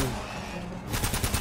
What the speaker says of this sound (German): ich treffe sogar und die Hälfte meiner Schüsse geht nicht durch